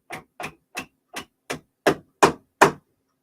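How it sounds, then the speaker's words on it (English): Eight sharp hammer blows strike in a steady rhythm during scenery building, each a distinct knock with a short decay, gradually growing louder toward the end, with no talking. "hit it with a hammer"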